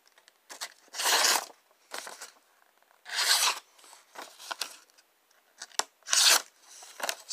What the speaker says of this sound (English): still cutting paper